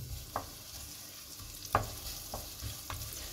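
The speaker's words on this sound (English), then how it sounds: "now that our butter is foaming, we'll add in a sliced onion" Sliced onion fries in foaming butter with a soft, steady sizzle close by, broken by a few light stirring clicks and scrapes spaced about a second apart.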